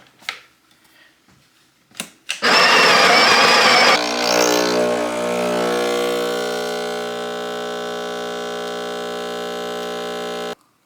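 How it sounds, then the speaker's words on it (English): An electric grinder grinds 20 grams of coffee beans: a few clicks first, then a loud rough whirring burst as the beans crack, settling into a steadier high motor whine until it stops abruptly. "20 grams of beans measured out, and then we'll put it in here and grind it"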